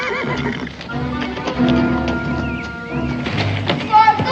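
A horse neighs and whinnies amid clip-clopping hooves in a 1969 western drama scene, with music and voices mixed underneath throughout.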